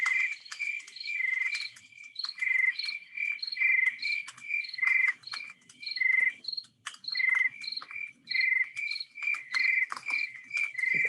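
Crickets chirp loudly and close by in rapid, rhythmic trills that repeat steadily with brief pauses, with no other sounds underneath.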